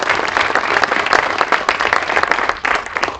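Audience applause at a school ribbon cutting for a new middle school, a dense, steady wash of many hands clapping close and loud throughout.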